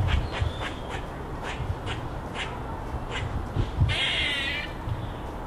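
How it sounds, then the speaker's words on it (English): Black squirrel calls, a run of short harsh chattering barks outdoors, faint and moderately distant over a steady background hiss. "Listen out for squirrels too."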